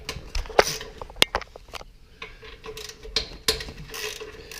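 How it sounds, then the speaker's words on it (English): A ratchet wrench cracks loose bolts on the engine cover of a Coleman CT200U mini bike, giving a series of sharp clicking bursts with pauses between them. "Let me start cracking these bolts."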